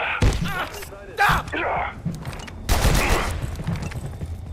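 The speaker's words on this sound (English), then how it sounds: "Can they shoot each other in the back?" Video game gunfire in Abiotic Factor, a few bursts of shots and thuds broken up by pauses, mixed with a player's speech and in-game voices.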